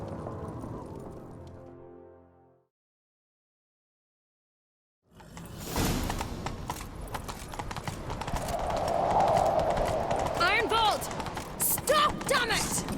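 A brief musical phrase fades into silence, then rapid hoofbeats clatter at a gallop in the video game The Witcher 3, loud and close, with a horse snorting and faint voices near the end.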